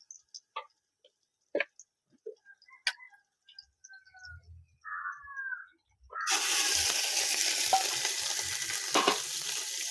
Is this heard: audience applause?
no